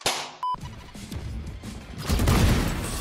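Gunfire in the Valorant video game, fired while the player's character runs, loud and close, with a single sharp tone early, then dense clustered bursts that thicken toward the end.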